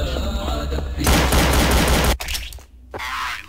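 Rapid automatic gunfire from Counter-Strike: Source bursts loudly for about two seconds, then cuts off and returns in a shorter, slightly softer volley.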